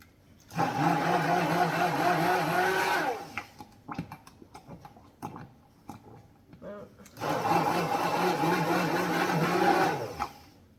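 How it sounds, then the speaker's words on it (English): A stick blender whirs as it mixes a thickening body butter, running in two loud bursts of about three seconds each, with a quieter gap of clatter and handling between them. "I'm going to grab the blender, the stick blender, pop it in, and give it another few little bursts."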